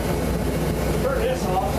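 A Jet Star jet heater roars steadily up close, a continuous dense rush of air with a low rumbling undertone that holds even and unbroken throughout.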